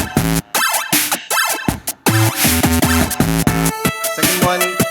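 A background music track from the Create with Code course plays alone: a loud, dense, melodic loop with steady rhythmic chords and bright synth layers, with a short dropout near the two-second mark.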